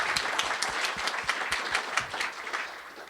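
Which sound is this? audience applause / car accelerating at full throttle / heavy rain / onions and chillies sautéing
audience applause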